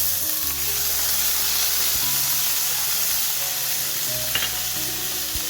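Onions sauté in a pan for a fenugreek curry, giving a steady loud sizzle and hiss with faint stirring scrapes and no talk.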